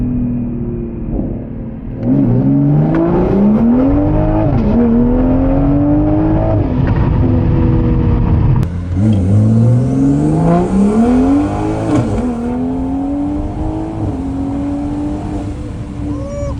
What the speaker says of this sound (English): Even on low boost, the car pulled so much harder than the stock turbo.